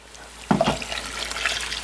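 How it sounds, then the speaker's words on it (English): Water pours into a cooking pot for coconut chicken pulao, a sudden splash followed by a steady bubbling, trickling stream that continues close and clear. "I'm going to add 2 cups of water."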